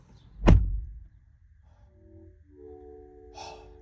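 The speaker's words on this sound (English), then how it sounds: "But also the door, it's just solid. Like, listen." A 2024 Honda CR-V door shuts with one solid, heavy thunk, followed after a short pause by the car's soft multi-tone chime, heard close and alone.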